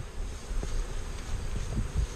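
Honeybees buzz steadily around an open hive box in a treatment-free apiary in Wisconsin, a low continuous drone close by with a few louder passes as individual bees fly near.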